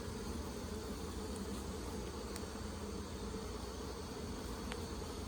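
Honey bees buzzing on hive frames, a steady close droning hum with no pauses and no speech.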